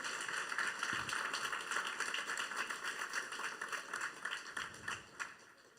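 A congregation applauds during a Sunday church service, giving a steady, sustained round of clapping at a modest level that carries on without a break.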